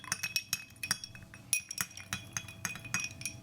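Ice cubes clink repeatedly against glass as whiskey is stirred in several glasses, a quick, irregular rattle of bright taps, close and fairly quiet, with no talking.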